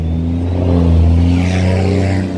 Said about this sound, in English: That truck has loud exhaust.